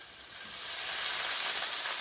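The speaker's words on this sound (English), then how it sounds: "I'm gonna start to add the gnocchi to the brown butter" Gnocchi sizzle and hiss in a pan of browning butter with sage, a steady loud frying crackle that swells slightly and holds, with no voices.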